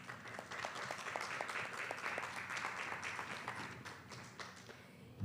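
An audience at a colloquium on racial profiling in Mexico City claps in sustained, even applause that swells and fades slightly over several seconds, heard at moderate distance.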